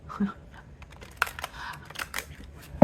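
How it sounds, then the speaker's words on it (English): A new deck of playing cards being shuffled gives brief, soft clicks and snaps in an irregular patter, close and fairly quiet, ending with a sharper knock. "excuse the shuffling, I'm trying to break in this new deck."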